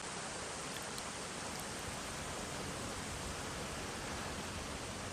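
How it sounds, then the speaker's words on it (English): The River Esk at Kinnaber runs fast over a wide, shallow stretch, a dense, unbroken rushing wash of water that stays steady and even throughout, with no voices over it. "And you can see it comes down at a fair old force, even this shallow."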